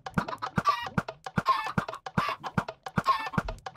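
A flock of hens in a video game clucks repeatedly in choppy, staccato bursts, nearby and fairly loud, with no one speaking.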